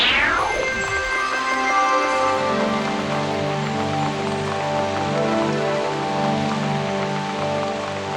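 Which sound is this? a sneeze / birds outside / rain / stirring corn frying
rain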